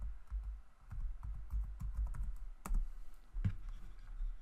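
Typing on a computer keyboard, a close run of quick, uneven key clicks and taps, pausing briefly before a few final louder keystrokes, with no voice.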